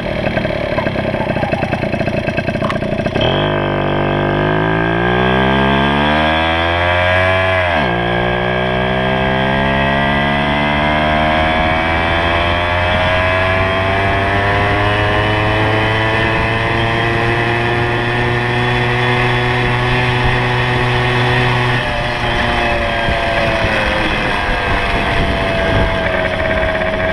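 A Yamaha PW80 dirt bike with an upgraded carburetor revs loud and close, pitch climbing sharply through gears, then holding a steady high drone in second gear before easing off.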